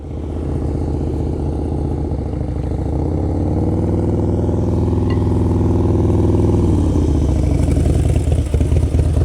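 A motorcycle engine runs loud and close throughout a riding lesson, holding a steady mid-pitched drone, then dropping in pitch as the bike slows and brakes to a stop.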